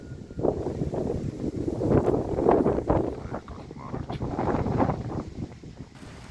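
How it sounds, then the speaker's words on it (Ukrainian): Gusting wind buffets the microphone outdoors in Ukraine, swelling and easing in rough surges over several seconds, as rain approaches. "Ну, як завжди вітер подимається."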